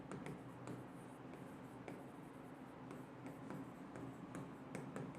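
Marker or chalk scratching on a board during a live botany lecture, a steady stream of faint scrapes and small taps running continuously with no talk over it.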